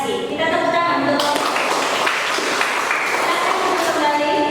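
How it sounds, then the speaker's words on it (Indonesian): A classroom of students claps together, a steady burst of applause rising abruptly after a short pause and holding evenly. "Kita tepuk tangan untuk"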